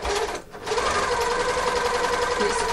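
A serger sewing machine runs fast and steady as its blade trims the fabric edge, a dense mechanical whir that dips briefly near the start and then holds a constant close hum.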